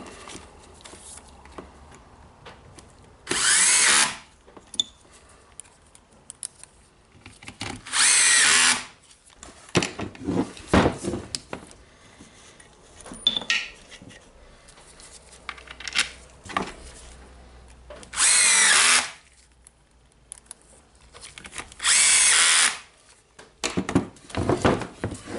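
A power drill drives screws into the housing of a Hikoki DH28PCY rotary hammer in several short whirring bursts, separated by quieter handling clicks and taps, loud and close.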